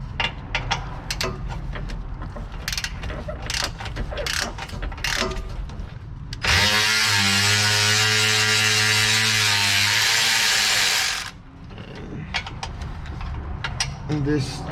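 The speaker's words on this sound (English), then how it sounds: "We're gonna go ahead and loosen up these two bolts first, right here." Bolts on a vehicle's MBRP exhaust system being loosened with a power tool, a loud steady whirring burst lasting several seconds between stretches of clicking and clattering ratchet work, close by.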